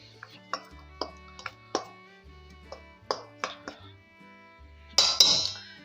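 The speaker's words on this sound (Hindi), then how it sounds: "मिक्स कर लेंगे।" A utensil clinks against a bowl as chicken burger coating is stirred, a series of bright metallic taps spaced irregularly over a soft musical background, ending with a louder clatter.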